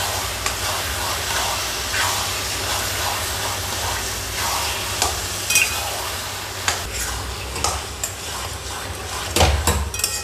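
Taro stalks are stirred with salt, turmeric and green chili paste in a pan, giving a steady scraping and clattering of a spoon against the metal over a soft sizzle, with sharper knocks near the end.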